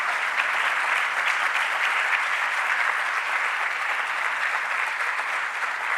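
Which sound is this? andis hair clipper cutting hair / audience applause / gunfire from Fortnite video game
audience applause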